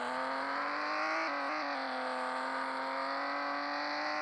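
A remapped Porsche race car engine in Rebaixados Elite Brasil, a steady high-pitched drone with a brief dip and recovery in revs as it accelerates, continuous and fairly quiet without talk.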